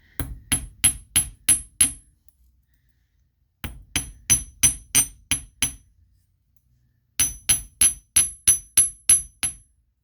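Ball peen hammer tapping on painted brass for costume jewelry, three bursts of about six quick, sharp metallic strikes each, separated by short pauses, close and clear with no talking.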